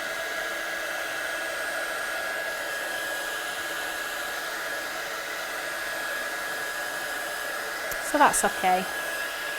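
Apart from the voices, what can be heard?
craft heat tool blowing hot air to dry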